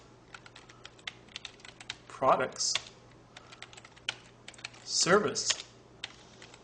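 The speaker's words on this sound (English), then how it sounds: "I'm intentionally typing in lowercase." Close, quick clicking of keys on a computer keyboard while building a CSS web page in Dreamweaver CS5, irregular taps running steadily throughout, with two brief spoken words breaking in between the keystrokes.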